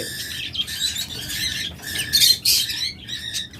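Caged lovebirds, budgerigars and finches in a bird shop chirp and squawk constantly in shrill overlapping bursts close by, with no talking.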